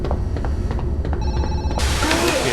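A phone rings in the video game Zoochosis, an electronic ringtone with repeated tonal pulses, loud and close, over a dense background hum.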